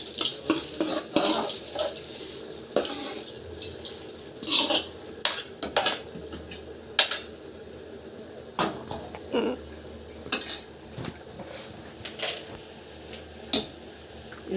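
Tomatoes tipped into a pan with fried chilies and stirred, a run of loud metallic scrapes and clinks of a spoon against the pan over a soft frying sizzle, close and steady.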